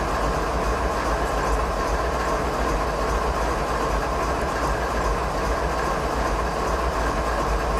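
A CP ES44AC diesel freight train in Train Simulator 2016 on a Canadian mountain pass, giving a steady, dense rumble of engine and rolling wagons with faint clickety-clack, loud and continuous throughout with no talk.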